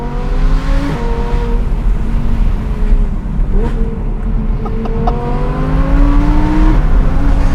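An Audi R8 V10 Plus with a Huracan Performante-based center exit exhaust and a 37-horsepower tune, driven in performance mode, holds a loud, steady engine roar with stepped pitch changes as the revs climb and drop, with no talking.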